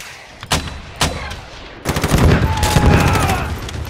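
Gunfire in a toy army men stop-motion battle: two sharp isolated shots, then a dense sustained burst of rapid automatic fire filling the second half, loud and close.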